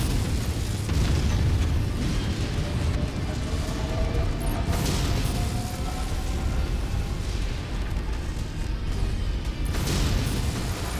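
A mech facility in the MechWarrior 5 video game is destroyed, with a dense, continuous roar of rumbling explosions and crackling debris lasting throughout, loud and steady with a few sharper bursts.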